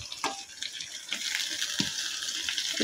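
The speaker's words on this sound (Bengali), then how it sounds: "তো এবার আমি আমার ধুয়ে রাখা শুটকিগুলা দিয়ে দেবো।" Washed dried fish drops into a hot pan with lightly browned ingredients, setting off a steady, bright sizzling hiss with scattered crackles and soft scraping throughout.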